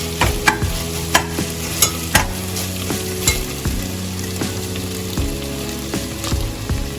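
Thinly sliced onions frying in a pan for coconut milk chicken biryani, with steady close sizzling and regular stirring strokes, sharp clinks of a spoon against the pan in between and no voices.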